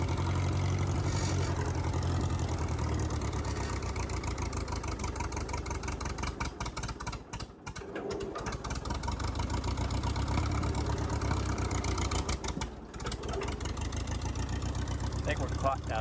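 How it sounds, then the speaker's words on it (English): A tractor-trencher-skidder's engine idles at low idle in steady, continuous rumbling with a low drone throughout, dipping briefly twice, with some voice underneath. "we're just testing things here at low idle"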